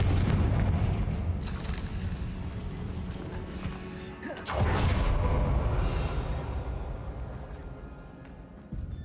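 A Confringo fire spell explodes in Hogwarts Legacy inside a cave, giving a loud booming blast that fades, then a second heavy burst at mid-length, with game ambience behind.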